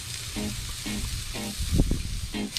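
Chopped onion and jalapeños sizzle in a hot pan at a camp cooking setup, a close crackling fry with a few stirring scrapes and bumps, no voices.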